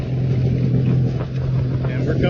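Steady droning hum of a small aircraft engine left at idle during a fast descent from about 6,600 feet through clouds, a constant low rumble with airflow noise filling the cabin throughout.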